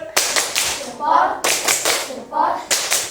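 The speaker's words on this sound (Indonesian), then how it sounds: "Kita berikan tepuk salut untuk kita semua." A classroom group does a rhythmic 'tepuk salut' cheer clap, with sharp bursts of many hands arriving in patterned groups separated by brief pauses, fairly loud and close.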